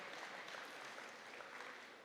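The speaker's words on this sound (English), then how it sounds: "Give him a great big round of applause" Applause from an audience at an open house event comes through as a steady, faint wash of many hands clapping together, heard from some distance.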